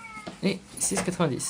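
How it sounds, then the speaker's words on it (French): A cat meows several times close by, short bright calls in quick succession, with a voice speaking French over it. "c'est un chat d'or qui miaule"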